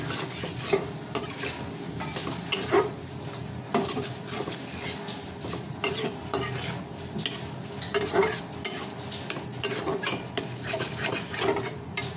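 Squeezed taro being stir-fried in a pan in a home kitchen, with continuous scraping and stirring strokes of a spatula against the pan, soft sizzling and occasional metallic clinks.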